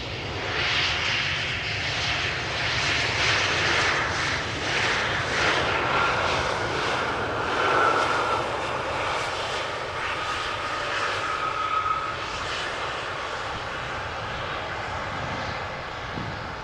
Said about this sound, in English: Embraer butt shot coming in